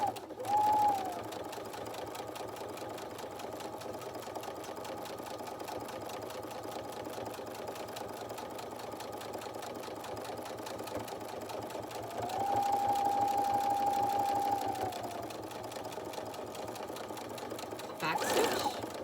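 A sewing machine back stitching a zipper coin pouch, a steady mechanical whirring hum running continuously at low level, with a short louder, faster burst partway through and a brief clunk near the end.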